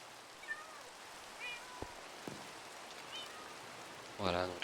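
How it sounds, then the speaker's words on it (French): Minecraft cat meows a few times in a quiet game world with soft rain in the background, the last meow louder and closer, with no talking. "Chut le chat."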